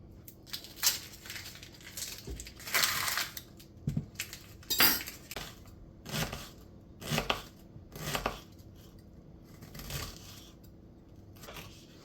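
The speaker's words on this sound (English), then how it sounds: "just want to roughly chop the onion, the carrot, the celery and the garlic" A knife roughly chops onion, carrot, celery and garlic on a board for roasted pumpkin soup, irregular close knocks and crunchy cuts in short bursts with pauses between them.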